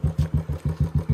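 Royal Enfield Bullet motorcycle engine running at low revs off-road: a deep, steady thumping beat of about six pulses per second, loud and close, with no talk.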